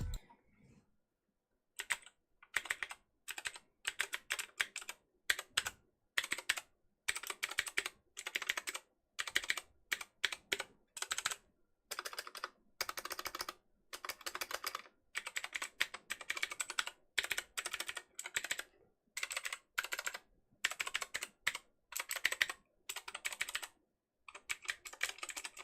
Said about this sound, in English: let me soothe you with the sound of ASMR key typing on some Gateron blues